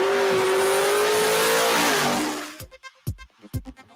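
A stick-shift drag race car on air ride accelerates hard at a racing event, a loud continuous rising engine roar that cuts off abruptly, followed by a few sharp knocks and thumps.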